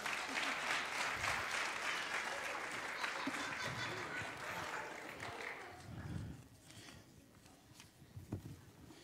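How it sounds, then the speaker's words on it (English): A church congregation claps for departing children, a dense, lively burst of hand clapping that gradually thins and fades, with a few scattered claps and murmurs near the end. "Let's give them a good hand clap as they go."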